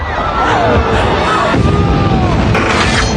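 A turbine explodes in an action film about sabotage and fire at the tallest building, a loud booming blast with a roaring, dense wash of sound that stays strong throughout.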